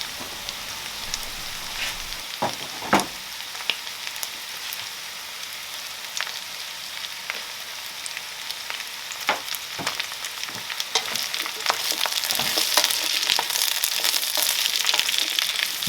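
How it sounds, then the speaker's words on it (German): Red pointed peppers, garlic and mixed vegetables frying in a pan for a Balkan paprikaš, a steady close sizzle with scattered crackles and stirring scrapes, growing louder and denser toward the end. "3 Knoblauchzehen gebe ich hinzu und brate es 5 weitere Minuten mit dem Gemüse an"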